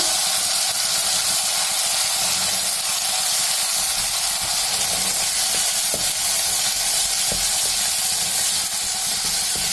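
Well-ripened tomatoes sizzling in a pan with browned green chillies for tomato gojju, a loud continuous hiss and crackle close up, with a few faint clicks of stirring.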